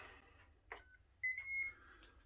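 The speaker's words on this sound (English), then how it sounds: "turn on the air fryer" A Ninja Foodi air fryer turning on gives a short electronic beep, followed by a longer, clear tone, fairly quiet against a low background hum.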